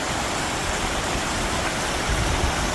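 Fast-moving river water rushes steadily below the Lake Palestine dam on the Neches River in Texas, a continuous broadband roar like a waterfall, loud and close with no talk over it.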